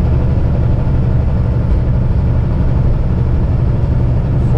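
Heavy truck engine hauling a 60-ton crane on 10 axles, running steady at 1440 RPM at highway speed, a continuous loud low-pitched drone with no talk.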